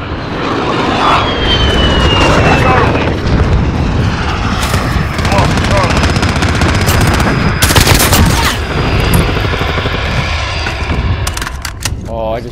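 Sustained gunfire and explosions in the Modern Warfare video game, with dense bursts throughout, an aircraft engine passing overhead, and loud broadband blasts near the middle, with voices talking over the battle.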